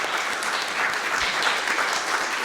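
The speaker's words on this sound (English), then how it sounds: "I'm going to ask everyone to give our panelists a really warm round of applause." An audience at an innovation-at-work panel discussion applauds its panelists: a dense, even wash of many hands clapping together, held at a steady level.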